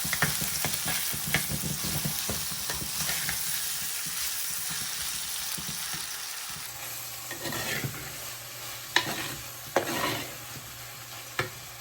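Onions frying in a pan with salt and turmeric for a bitter gourd thiyal, a continuous hiss and crackle broken by repeated scraping stirs and a few louder knocks of the spoon, close by, no talking.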